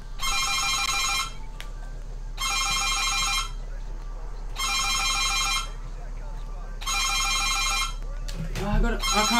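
A telephone ringtone plays in four repeated bursts with short gaps during a Call of Duty: Ghosts match, its bright electronic tone fairly loud over game background noise.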